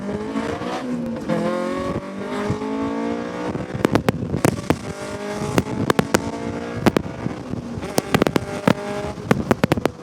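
A Honda CRX engine revs hard and loud up near redline, with harmonic tones climbing and falling, plus sharp crackles and pops from the exhaust.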